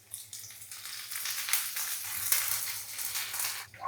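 Chopped garlic, one green chili, ginger and coconut slices are stirred in a hot pan, giving a soft sizzle with scraping and shuffling that swells and fades, without speech.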